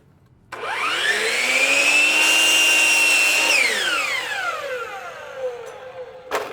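A power saw spins up and slices through a cellular PVC window sill for a miter return cut, its whine holding steady for a few seconds before winding down, followed by a sharp click at the end.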